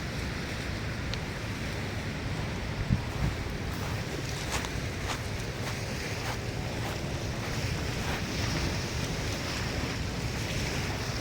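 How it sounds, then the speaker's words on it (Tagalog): Waves wash against the shore at Dolomite beach, a broad continuous rumble mixed with wind buffeting the microphone, with a few faint distant surges and no voices. "Yung hampas ng alon."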